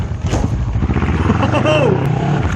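A 2019 Kawasaki Z650 motorcycle accelerating hard from a standstill toward 60 on a city street, its engine note rising steadily in pitch through gears with strong wind rush, close and loud, with a voice briefly heard over it.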